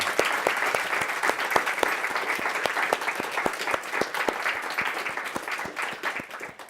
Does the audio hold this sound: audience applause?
yes